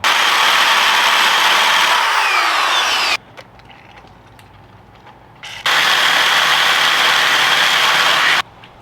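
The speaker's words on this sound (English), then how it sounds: "Alright, let's get to drilling." Power drill boring into the steel exhaust baffle of a 2007 Honda Shadow VLX600, a loud, steady grinding whine that cuts out for a couple of seconds mid-way, then resumes at full strength before stopping near the end.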